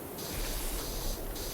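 A pressure washer sprays in PowerWash Simulator as a steady broad hissing rush, loud and continuous, with slight shifts in tone as the jet moves.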